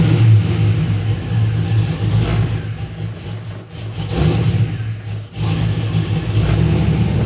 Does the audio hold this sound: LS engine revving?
yes